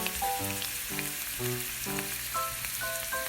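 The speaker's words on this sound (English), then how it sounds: "Flip occasionally until fully cooked." Korean jeon pancakes fry in an oiled pan with a steady, close sizzle and crackle, heard alone while soft, bright tones sound over it.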